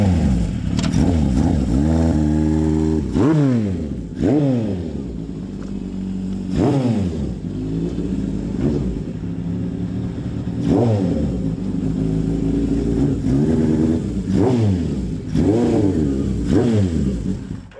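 A 1982 Suzuki GS750E cafe racer with a Super Trap 4-in-1 exhaust and rejetted carburetors revs repeatedly, its engine rising and falling in throaty bursts over a steady idle, close and loud throughout.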